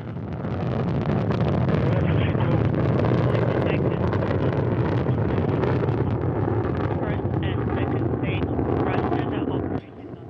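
A Soyuz rocket with four strap-on engines roars through launch, a dense, continuous low rumble with crackle, heavy wind buffeting, and a sudden drop near the end.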